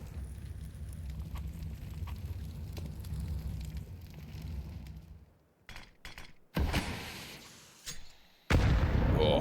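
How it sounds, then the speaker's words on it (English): Grenade blasts in Counter-Strike during a professional PGL Cluj-Napoca 2025 match between 3DMAX and sAw: after a low rumbling stretch, a few sharp cracks hit, then two loud, abrupt explosive bursts close by with no talking. "Oh, Yeah, nice grenade"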